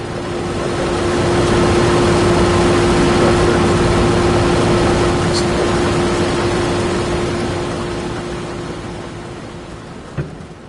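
A tractor engine drones steadily during a bean harvest, a loud, continuous low rumble with a constant hum that fades slightly toward the end, with no talk over it.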